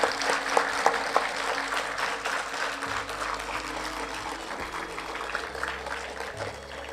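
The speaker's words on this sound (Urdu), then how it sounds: "تو میں گزارش کروں گی اس تالیوں کا سلسلہ محترمہ صدر صاحبہ کے لیے ایک دفعہ ہو" Applause from an audience for the woman president at a Karachi youth event honoring Shaheed Hakim Said, a dense steady patter of many hands at moderate level lasting throughout, with a low hum beneath.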